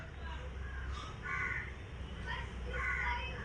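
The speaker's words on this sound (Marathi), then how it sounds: "या दारामध्ये हा कावळा" A crow caws at a house doorway in a few short, repeated bursts, fairly clear above a low background hum.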